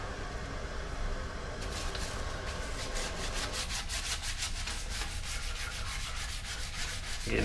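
Gritty Ajax powder scrubbed against a porcelain toilet bowl ring: a steady, close rasping rub that runs without pause and picks up a quick back-and-forth scouring rhythm partway through.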